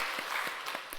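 A church congregation at a Sunday worship service applauds to welcome visitors, a brief, soft patter of scattered clapping with a few distinct hand claps standing out.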